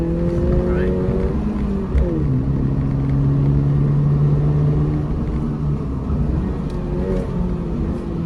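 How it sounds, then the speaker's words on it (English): A Toyota GR86's exhaust drones at steady cruise from inside the car, a mellow low tone with faint shifts in pitch, rather quiet and continuous under road rumble. "wish that the car was a bit louder, like the exhaust note,"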